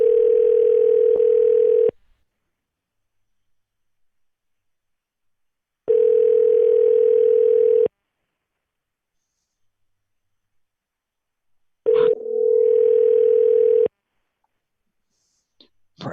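Telephone dial tone heard while a call is being placed: a steady electronic tone sounds in three separate two-second bursts with silent gaps between them, the last one broken by clicks before the line goes quiet.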